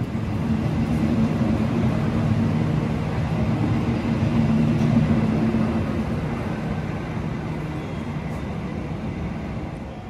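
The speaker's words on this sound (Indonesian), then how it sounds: "Ini kereta api Mataramnya berangkat nih teman-teman." The KA Mataram passenger train pulls out of Klaten station with a broad, steady rumble of wheels and engine that builds slightly, then eases as it moves off, continuous for the whole stretch.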